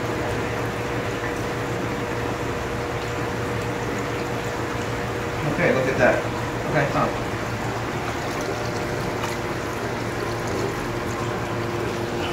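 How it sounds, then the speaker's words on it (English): A slow trickle of fresh water runs into a homemade acclimation setup for tropical fish, a faint continuous wash beneath a steady hum, with a couple of brief splashy bursts and someone talking quietly. "So now I'm gonna add my water here. See, slow little trickle"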